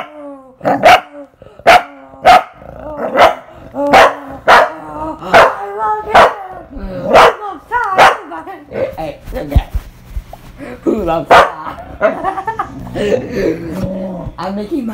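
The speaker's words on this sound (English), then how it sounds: "a dog fight. And that's what's gonna happen right now." Two dogs bark, yip and growl in a rowdy play fight, sharp loud barks coming in quick bursts close by, with a person's voice mixed in.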